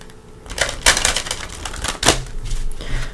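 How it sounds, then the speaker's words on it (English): A deck of tarot cards being shuffled by hand, with bursts of riffling and snapping card flutter in short clustered runs, close and fairly loud, with no talking. "Pre-shuffled, but we're going to give it a couple shuffles."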